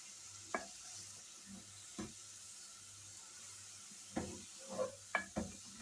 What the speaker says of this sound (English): I'm just frying it with onions only.